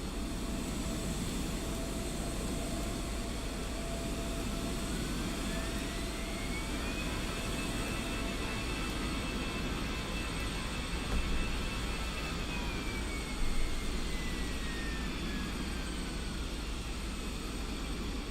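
A Fenix A320 airliner takes off in a flight simulator game, a steady, loud jet-engine roar with a thin whining tone that rises and holds, continuous for the whole stretch.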